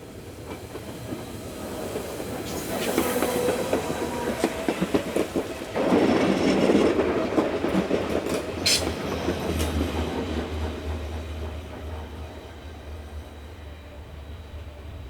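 Südostbahn Class 526 multiple unit running on a steep Swiss mainline, wheels clicking over rail joints with hissing and a brief high squeal, the rumble swelling as it passes and then fading to a low hum.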